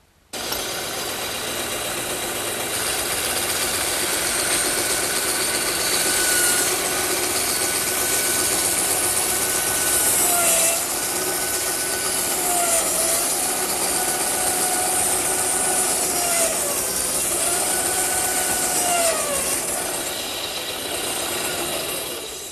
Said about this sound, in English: I think I'll cut them over on the bandsaw